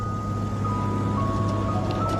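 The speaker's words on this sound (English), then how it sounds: "there's a scene with an ice cream truck hunting a child." Ice cream truck chiming its jingle in a horror movie scene about killer cars, a thin, faint tinkling melody over a low engine drone, with no voices.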